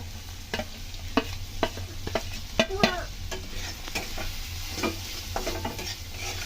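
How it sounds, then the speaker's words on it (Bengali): Flattened rice sizzles in a pan while a spoon scrapes and stirs it in irregular strokes, close and fairly loud, with no voices. "এটা একটু ভাজা ভাজা হয়ে গেলে এতে আমি দিয়ে দেবো"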